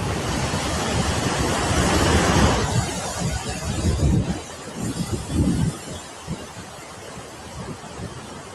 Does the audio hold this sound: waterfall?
yes